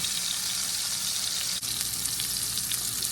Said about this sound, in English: I'm gonna allow this to sear for about 3 to 4 minutes per side